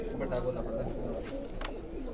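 Pigeons coo softly and repeatedly close by over a steady murmur of outdoor background noise, with faint voices mixed in.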